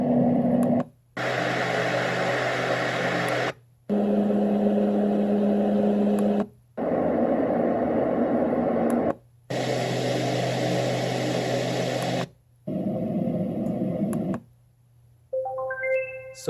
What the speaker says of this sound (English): So we obviously have been listening to these 7 fan sounds